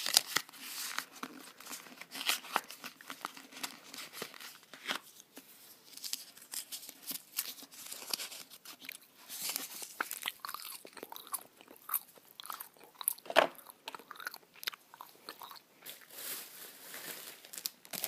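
A pack of gum is unwrapped and a piece is chewed in a quiet close-miked setting, with soft crinkling wrapper rustles and wet chewing clicks in irregular bursts throughout.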